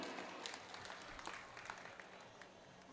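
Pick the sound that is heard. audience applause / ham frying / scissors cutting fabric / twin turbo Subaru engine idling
audience applause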